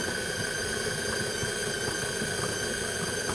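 A stand mixer fitted with a flat beater creams butter at speed 2 for a raspberry pistachio tart, giving a steady, close motor hum with a faint, irregular knocking texture and no speech.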